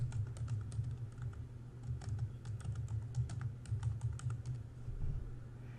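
Steady typing on a computer keyboard while entering a system name during setup of an SMA Sunny Home Manager for zero export, dense rapid key clicks running throughout at moderate volume, no voices.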